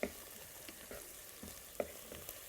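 Onion frying in a pan gives a soft, steady sizzle, faint and close, with a few light stirring clinks over the hiss.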